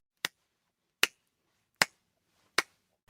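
A slow clap inserted as a sound effect: four sharp, isolated claps spaced evenly about three-quarters of a second apart, crisp and close against silence.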